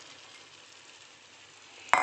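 Mung beans go into a hot pan for sautéing: a faint, steady sizzle runs throughout, then a sudden loud burst of crackling frying right at the end as the beans hit the oil.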